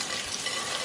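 Petai beans and liver stir-fried with spices in a pan, a steady dense sizzle with frying crackle filling the short moment, close and even, no talk.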